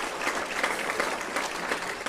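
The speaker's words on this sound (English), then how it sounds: "that deserves a round of applause" Audience applause at a city's State of the City address, a steady dense wash of many hands clapping throughout, moderately loud with no voices.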